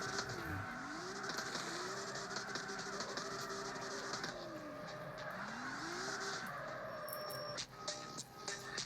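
Tires squeal and skid steadily as a 2JZ-powered AE86 spins out in CarX Street, the engine droning and rising and falling beneath the continuous screech, with a few clicks near the end.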